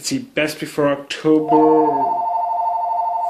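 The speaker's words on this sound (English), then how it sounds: "That's the phone ringing." A telephone rings right after a man's brief speech, a steady electronic tone with stacked harmonics sustained for nearly two seconds, clear and fairly loud in an indoor room.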